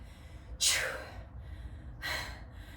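Two heavy, breathy gasps about a second and a half apart from someone catching their breath after a weights HIIT workout, fairly close with no talking.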